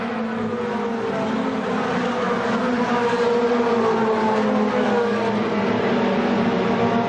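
Stock car engine droning steadily at Winchester Speedway during the 1993 World Stockcar Festival, a continuous loud roar as a car slows along the backstretch, with no voices over it.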